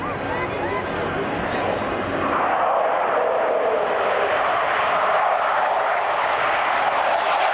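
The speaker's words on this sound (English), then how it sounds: "in the CF-18 Hornet, the first of two touch and goes here at the Gatineau Airport" A CF-18 Hornet fighter jet doing a touch and go at Gatineau Airport during an air show, a loud rising engine roar that swells and holds steady, with an announcer talking over it.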